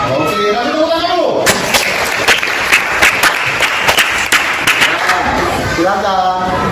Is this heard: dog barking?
no